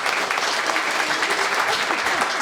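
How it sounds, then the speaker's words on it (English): A meeting audience applauding at a council plan change meeting, thick continuous clapping from many hands at a constant level, with a hint of voices mixed in. "So can we have a round of applause for Jan?"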